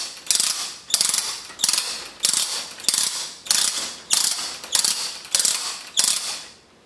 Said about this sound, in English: you wind it by turning that ratchet